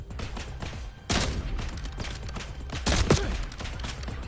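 Rapid gunfire from the Call of Duty Black Ops 7 campaign rattles in dense, loud bursts, with sharper shots standing out near the middle and end, and no talking over it.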